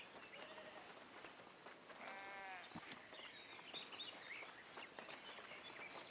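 A sheep bleats in the medieval town-building video game Foundation, a single wavering call near the middle of the clip, set against a steady outdoor ambience with light bird chirps.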